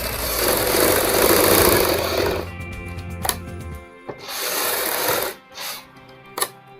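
A sewing machine stitches a suit neckline a foot-width outside a marked line, running in one continuous close whir for a few seconds, then stopping and starting in short bursts with clicks and fabric handling between.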